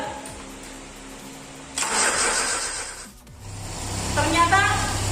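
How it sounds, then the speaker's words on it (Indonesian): A car with a conventional ignition system, which earlier would not start because of a blown fuse, cranks on its starter and then catches into a low, steady running hum up close. "Sekarang saya akan mencoba untuk menghidupkan mesin setelah percikan api tadi sudah terbangkit."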